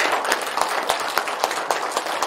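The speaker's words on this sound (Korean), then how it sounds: "여러분들께서도 환영과 감사의 박수를 다시 한번 보내주십시오." An audience at a district council regular meeting claps in welcome and thanks, a lively round of many hands with distinct sharp claps standing out in an uneven rhythm throughout the short burst.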